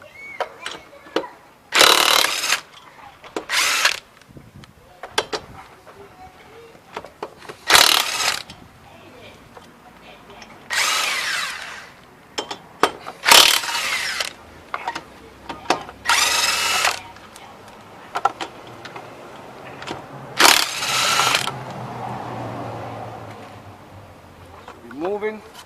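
A cordless Earthquake impact wrench with an impact socket zips off 19 mm wheel lug nuts on a 2002 Honda Civic GX, loud repeated bursts of hammering whirr separated by pauses, with a person talking in between.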